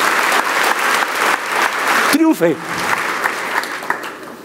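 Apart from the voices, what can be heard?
applause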